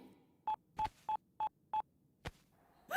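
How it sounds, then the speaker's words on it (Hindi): A series of five evenly spaced telephone keypad tones, each a short clean beep, followed by a brief click and another tone at the end. "पार्टी ऑफिस से फोन है सर"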